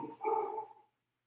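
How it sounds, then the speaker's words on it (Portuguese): A dog barks in one short, muffled burst a little way off, quiet and indoors-sounding, trailing off into silence. "Eu espero que os cachorros não estejam atrapalhando vocês"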